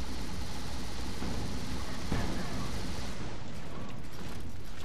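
A high rate-of-fire weapon in the shooter game Defiance rattles off continuous rapid gunfire, a dense unbroken stream of shots that holds steady for several seconds before thinning slightly.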